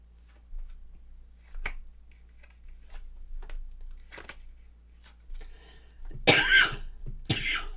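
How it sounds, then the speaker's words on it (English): A few sharp coughs near the end, loud and close, after a stretch of quiet with faint small clicks and rustles. "Hang on, I got a cough."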